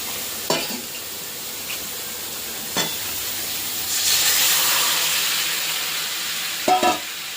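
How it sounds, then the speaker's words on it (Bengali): Hot water is poured into potatoes frying in a pan, raising a broad steamy hiss and sizzle that swells midway, with a few sharp utensil knocks before and after. "এই যে আলুর মধ্যে দিয়ে দিচ্ছি গরম জলটা"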